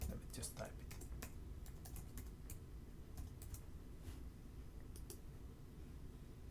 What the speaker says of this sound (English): Let me just type it.